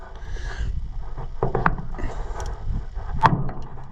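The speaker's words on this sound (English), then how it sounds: "I think I have to go up with the wrench." Metal clanks and ratcheting clicks from a wrench working a bolt on an Allis 200 tractor, a few scattered turns with a sharper clank near the end, close by with no talk.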